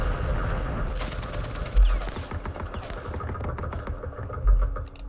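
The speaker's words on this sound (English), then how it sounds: "Let's hit these with our rockets." Rockets and gunfire sound in the Vietnam War strategy game Campaign Series Vietnam, Battle of Ia Drang: crackling bursts of automatic fire with two deep thuds, under a low background rumble.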